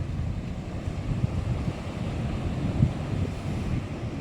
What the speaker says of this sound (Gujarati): મોજાઓ અત્યારે આવી રહ્યા છે ફૂલ મોજમાં છે દરિયો અત્યારે